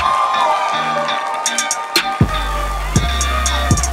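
A crowd cheers and whoops for a student group taking the stage at a school event, the noisy applause swelling around the two-second mark and carrying on loud and close to the end.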